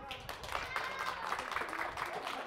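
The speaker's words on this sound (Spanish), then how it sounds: "¡Aplauso para Carla!" A studio audience at a children's day contest claps and cheers for a contestant, a brief, fairly faint burst of mixed applause and shouts.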